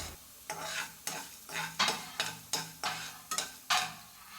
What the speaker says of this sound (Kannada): ಇನ್ನು ಅದನ್ನೆಲ್ಲ ಸ್ವಲ್ಪ ಚೆನ್ನಾಗಿ ಘಮ ಬರೋವರೆಗೂ ಫ್ರೈ ಮಾಡ್ಕೊಬೇಕು.